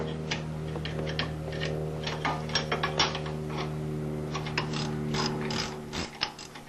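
A hand ratchet turns an 18 mm socket on a 1998 Chevy Tahoe CV joint, sounding as close, crisp clicking bursts in repeated strokes with brief pauses between them.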